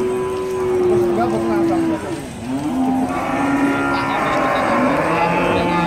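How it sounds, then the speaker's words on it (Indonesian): Limousin cattle moo loudly and close by, long drawn-out lowing calls over a noisy background of the busy Sragen livestock market with voices. "ini sapi limosin"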